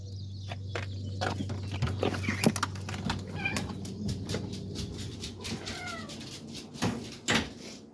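A cat meows repeatedly, some calls drawn out into wails, with birds chirping and faint footsteps and a door in the background.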